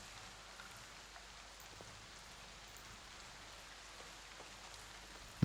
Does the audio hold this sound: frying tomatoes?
no